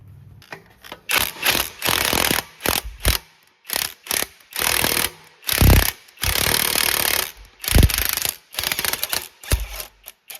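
Ratchet fitted with a 1/2-inch impact-rated swivel socket working on the front transfer case and differential of a 2009-2017 Chevy Traverse AWD, giving loud, close bursts of rapid clicking broken by short pauses, with no talking.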